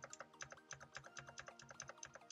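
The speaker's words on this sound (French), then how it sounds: "mon clavier, ça va faire beaucoup de bruit là" Rapid, uneven clatter of keys being typed on a computer keyboard, close and fairly quiet, with no voices.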